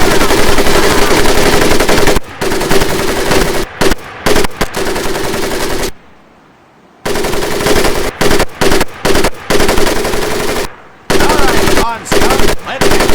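Rapid bursts from an M1919A4 .30 caliber machine gun in the Medal of Honor video game, loud and close, repeated in long chattering strings broken by short pauses and one brief silence.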